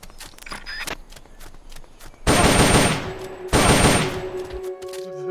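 Gunfire in the video game Metal Gear Solid: Peace Walker: after scattered light clicks and taps, two loud, dense bursts of automatic fire ring out close by, each trailing off.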